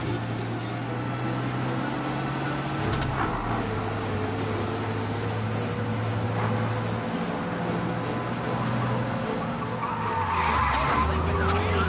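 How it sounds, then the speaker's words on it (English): Engine hum with sustained tire squeals and skidding as a car races hard around corners fleeing a police pursuit in the video game Mafia: Definitive Edition, with a steady electronic drone underneath. "We lose them by driving real fast and getting clear of them"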